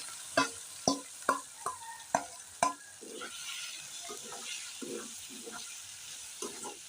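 Chopped garlic sizzles in oil for tempering greens, opening with a run of sharp clinks and scrapes from stirring, then settling into a soft, steady sizzle with occasional stirs.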